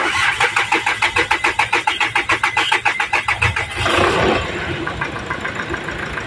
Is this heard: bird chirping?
no